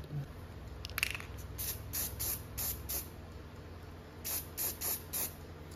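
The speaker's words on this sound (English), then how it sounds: "I'm gonna get some black paint. We're gonna paint it up." Short bursts of black spray paint hissing from an aerosol can onto a Lectric XP Lite e-bike chainring, several quick puffs with brief pauses between them, close and crisp.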